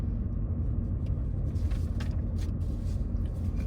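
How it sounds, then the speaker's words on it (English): Car driving slowly through the newer streets of the Ocala Preserve residential neighborhood in Ocala, heard from inside as a steady low road rumble and engine drone with no break. "Right now we're driving through some of the newer sections of the neighborhood."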